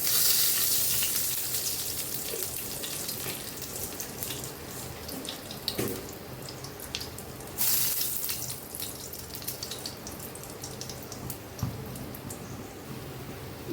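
Nigella seeds (black cumin) frying in hot oil, a steady close hiss and sizzle that runs throughout, with a few soft clinks and stirring knocks, in a Bengali pointed gourd and coconut dish.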